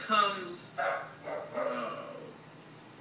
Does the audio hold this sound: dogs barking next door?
yes